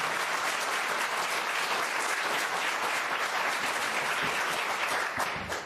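Audience applause at a city council committee meeting, a steady dense wash of many hands clapping throughout, loud and sustained without a break.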